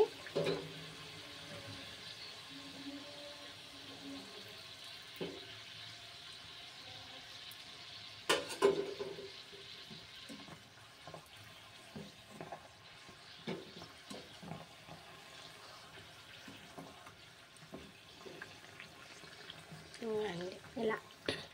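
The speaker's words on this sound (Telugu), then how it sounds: "ఒక్కసారి ఫ్రై అయ్యాక 2-3 మినిట్స్ ఫ్రై అయ్యాక వాటంతటా అవే ఫ్రై అయిపోతాయి, టర్న్ అయిపోయి ఫ్రై అవుతాయి" Kajjikayalu, sweet stuffed dumplings, fry in hot oil with a soft, steady bubbling sizzle, close but quiet, with a few clinks and taps and a voice speaking over it at times.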